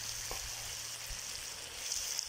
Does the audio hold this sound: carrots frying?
yes